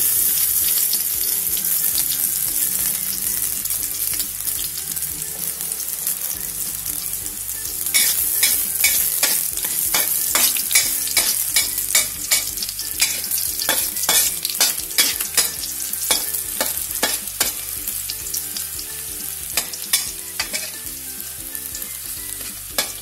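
Garlic stir-fries in a pan for a simple beef stir-fry, with a steady loud sizzle throughout. Repeated scraping and clattering stirring strokes grow busier partway through.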